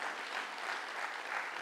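A lecture audience claps briefly in a soft, even patter of applause, fairly quiet and short.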